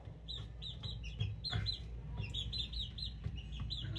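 Soft clucking and high peeping of young gamefowl chicks, a four-month-old McLean x Miner blue and a bullstag, repeated chirps over a low background rumble, fairly close but quiet.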